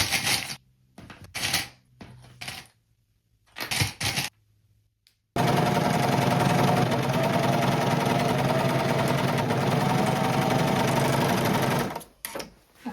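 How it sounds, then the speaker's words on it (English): A serger runs along the edge of pinned fabric for a skort, a steady loud mechanical whir for about seven seconds after brief handling noises, then stopping. "we're also going to use our serger to go along this edge here"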